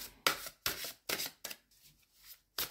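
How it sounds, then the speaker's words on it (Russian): Tarot cards are shuffled and drawn in a few quick, crisp riffling bursts with short pauses between them, quiet and close. "Я хочу достать еще одну карту."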